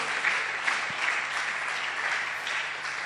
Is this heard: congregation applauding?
yes